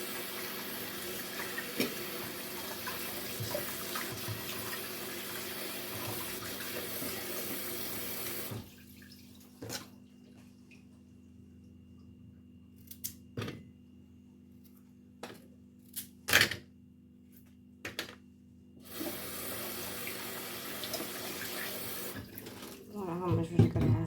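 Tap water runs steadily into a kitchen sink as potatoes are washed, a continuous hiss that stops midway, leaving quiet broken by sharp clacks and handling knocks before the flow resumes near the end.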